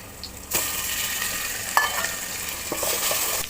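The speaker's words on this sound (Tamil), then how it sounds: "இப்போ நம்ம தக்காளி போடலாம்." Chopped tomatoes hit hot oil with onions and curry leaves for a prawn curry, setting off a loud, steady sizzle and a close stirring scrape that keeps going to the end.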